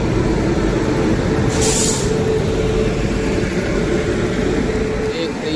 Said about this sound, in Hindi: भाई ट्रेन स्वराज एक्सप्रेस पहुंच रही है अम्बाला कैंट जंक्शन।